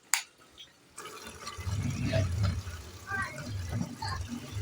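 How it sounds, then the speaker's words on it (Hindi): Water spilling over from a full water tank makes a steady rushing, gushing wash after a brief quiet start. Voices talk over it throughout. "टैंकी जो है ना हमारी गई है भर, पानी निकल रहा है।"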